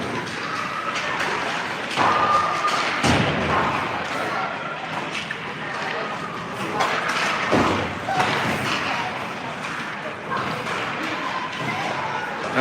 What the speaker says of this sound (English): Here they come again, rapid fire. A couple of shots at once.